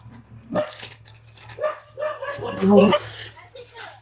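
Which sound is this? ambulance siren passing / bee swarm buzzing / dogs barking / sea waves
dogs barking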